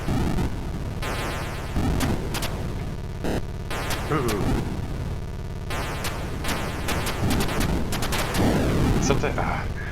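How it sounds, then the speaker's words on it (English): Rapid, dense bursts of gunfire from the guns in the video game The Dreadnaught Factor, loud and continuous in choppy volleys under someone talking over the action. "Sometimes the guns just inexplicably start firing faster."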